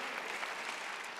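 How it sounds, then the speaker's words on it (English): A church congregation claps in a brief, dense burst of applause that fills the room evenly with no voices over it. "I think that deserves a nice round of applause,"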